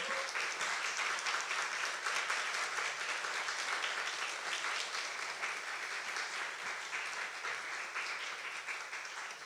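Sustained audience applause fills a museum coffee concert space after a song, dense and steady throughout before slowly thinning toward the end.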